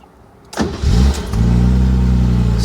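A 1968 Mercedes-Benz 280SL Pagoda cranks briefly, catches and fires up, then settles into a steady, even idle, close and loud with no talking.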